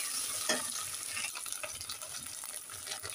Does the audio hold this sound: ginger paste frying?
yes